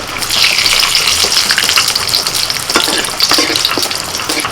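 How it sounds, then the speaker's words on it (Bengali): Bay leaf, cardamom, cinnamon and cloves hitting hot mustard oil for khichuri tempering, a loud bright continuous sizzle up close, with a few stirring clicks toward the end and no speech. "সরষের তেলের মধ্যে ফোড়নে দিচ্ছি তেজপাতা এলাচ দারচিনি লবঙ্গ"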